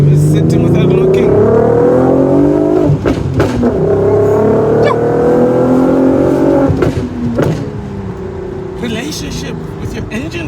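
A VW R32 VR6 engine, in either a Mk5 Golf R32 or an Audi TT, revs loudly and close by, rising and falling in repeated throttle blips with harmonic exhaust tones from the pipes. People talk over it.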